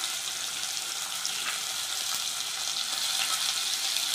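Onions sizzle and fry steadily in a pan before masala goes in, a continuous close hiss with no voices.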